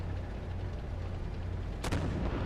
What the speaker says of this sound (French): Et le XM8 tire quand même assez rapidement.